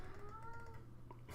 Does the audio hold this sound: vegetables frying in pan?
no